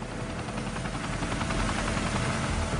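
Chinook helicopters flying over the Fukushima nuclear plant to dump water, a loud, dense rotor roar and engine wash that fills the whole stretch without letup, with no voices.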